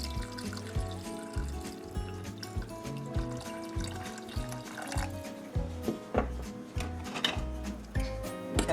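Water is poured into a pot over dessert ingredients, a continuous trickling and splashing fill close by with irregular clunks, no one talking.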